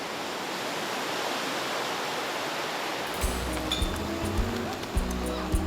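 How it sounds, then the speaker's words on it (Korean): Ocean surf and lagoon water wash steadily on a low coral atoll in Tuvalu, a broad continuous hiss that gives way after a few seconds to gusty low rumbles and scattered thumps of breaking waves nearby. "한쪽 귀로는 산호초 바다의 평화로운 물결 소리를, 다른 쪽 귀로는 남태평양에서 밀려오는 거센 파도 소리를 동시에 들을 수 있습니다"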